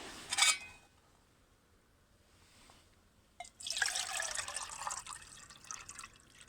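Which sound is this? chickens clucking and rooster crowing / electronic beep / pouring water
pouring water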